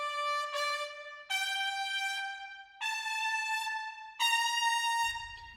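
Brassy big band horn section plays four sustained, punchy marcato chords one after another, each with a sharp attack, ending with a low rumble.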